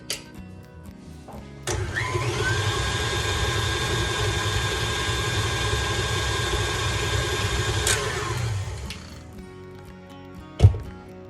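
An electric mixer spins butter and sugar for sugar cookie dough, starting with a click and whirring at a steady, even pitch for about seven seconds before stopping, with a knock near the end.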